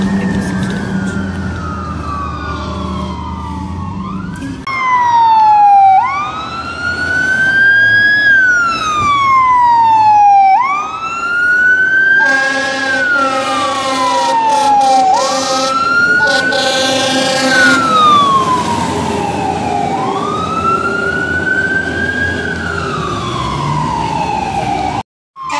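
A responding fire engine's siren wails loudly and close, sweeping up and down in repeated long cycles, with an electronic yelp and air horn blasts breaking in midway and engine noise underneath.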